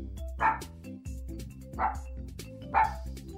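A pet dog named Spark barks three times at roughly one-second intervals, each bark sharp and close, with a low steady hum running beneath.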